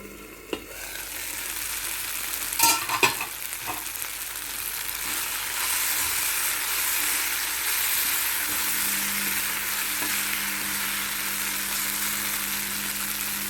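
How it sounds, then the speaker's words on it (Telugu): Brinjal pieces cooking in a covered pan and stirred now and then, a broad steady sizzle with a couple of clanks of utensil on metal early, then an even hiss. "మూత పెట్టి మధ్య మధ్యలో తిప్పుతూ ఉండండి"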